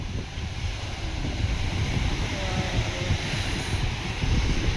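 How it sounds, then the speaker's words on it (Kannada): Ocean surf washes continuously onto an Andaman beach, a steady broadband roar with wind noise buffeting the microphone and no clear speech. "ಅಲೆಗಳ ಸೌಂಡು ಸಕ್ಕತ್ತಾಗಿ ಬರ್ತಾಯಿದೆ."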